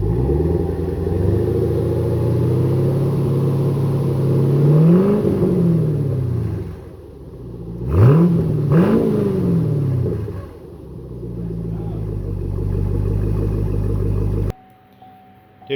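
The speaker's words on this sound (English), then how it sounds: "it sounds like a muscle car now" A 2010 Chevy Camaro SS with a 6.2-liter LS3 V8 and an MBRP muffler delete, idling with a loud deep rumble, then revving up and down in several throaty blips close by before cutting off.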